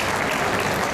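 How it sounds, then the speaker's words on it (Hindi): Dense, steady applause from an audience at a Hindi comic poetry recital, many hands clapping together in a continuous wash of sound with no gaps. "पूरा मुंह खोल के हंसो और साथ साथ तालियां बजाओ"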